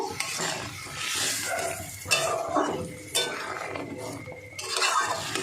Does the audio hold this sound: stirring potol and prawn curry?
yes